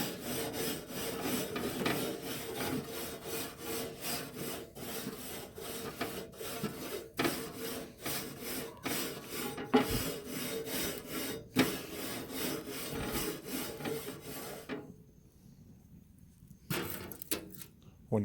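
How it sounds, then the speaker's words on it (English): A metal scrubber scrubs BBQ grill racks in steady, rough back-and-forth strokes, loud and close, running continuously before dropping away near the end to a few final scrapes. "We got our metal scrubber here. Always want to use metal, folks."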